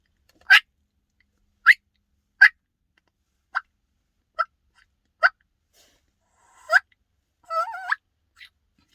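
Turkey diaphragm call blown in short sharp high-pitched yelps, about eight spaced bursts, ending with a longer wavering note and a faint final chirp, close and unaccompanied.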